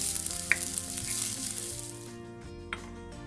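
Garlic fried rice sizzles and crackles in a hot pan, a close, bright frying hiss with a couple of sharp stirring clinks, tapering off toward the end.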